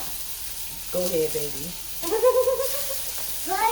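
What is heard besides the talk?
chicken tenders sizzling in skillet oil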